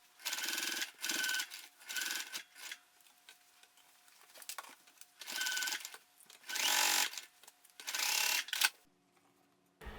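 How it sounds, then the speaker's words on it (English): A sewing machine stitches the sides and bottom of a fabric backpack in several separate bursts. Each run of rapid stitching is loud and close, with quiet gaps between runs and a sudden stop near the end. "And now I sew it in place on the sides and the bottom."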